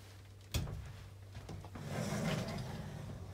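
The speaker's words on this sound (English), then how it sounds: "These are also on the nice barn style door." A barn-style sliding door on a washer-dryer closet in a 2020 Sabre 38DBQ fifth-wheel RV gives a sharp knock, then a second bump and a low rolling rumble as it slides along its track, heard close up.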